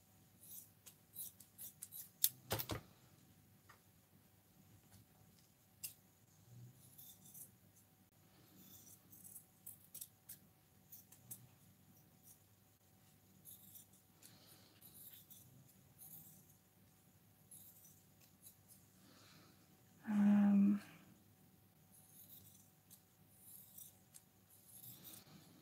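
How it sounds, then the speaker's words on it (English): Scissors cutting material into a circle for a doily and sewing craft, with soft close snips and rustling scattered throughout and one louder burst of cutting near the end. "I'm going to cut this to this circle."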